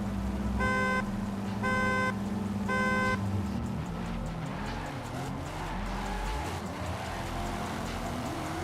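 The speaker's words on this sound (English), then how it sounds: "Bubba in the chase, Picasso in the lead" Drift cars run in tandem on a race track at a season-finale event, engines droning and shifting pitch at a distance while a repeating horn-like buzzer sounds three times early on.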